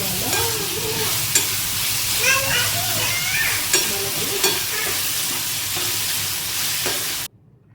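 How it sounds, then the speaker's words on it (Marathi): Tomatoes frying with onion in a pan for dal fry sizzle steadily up close while a spatula scrapes and clicks in bursts, and faint voice-like tones drift underneath before the sound cuts off at the end. "सो सेम पद्धतीने टोमॅटोला देखील आपण बऱ्यापैकी चांगलं आपण फ्राय करून घ्यायचं आहे."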